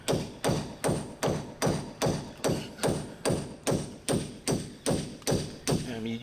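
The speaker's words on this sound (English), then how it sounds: "make a hole in this brick, and I'm using a chisel" Steady, evenly spaced metallic hammer blows strike a chisel into brick, about two per second, loud and close, continuing for a dozen hits.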